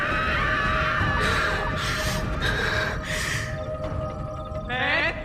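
A woman's frightening, drawn-out scream in a horror story, loud and harsh. It comes in several strained bursts with a breathy, gasping texture and ends in a higher wavering cry.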